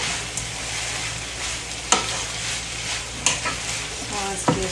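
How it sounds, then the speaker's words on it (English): Bell peppers and mushrooms sauteing with ground beef in a skillet, a constant close sizzle broken by a few sharp scrapes and stirs of a utensil against the pan. "I'm just going to turn it down and just kind of let those saute down a little bit."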